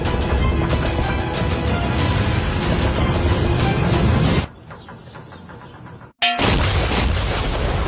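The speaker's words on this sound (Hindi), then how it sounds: "एक मेगा सी बॉम्ब, जो कि अभी एक RC बोट पर है और तुम्हारी यॉट को उड़ाने के लिए उसकी ओर जा रहा है। वो धमाका बहुत ही विशाल होगा।" A huge explosion of a mega sea bomb carried on an RC boat toward a yacht: sustained loud roaring rumble, a brief drop, then a sharp blast cracking back to full, heavy noise.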